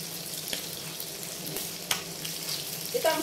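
Hotdogs frying in a pan, with a low steady sizzle, a couple of light knocks as they are rolled, and a faint clatter near the end, close with no voices.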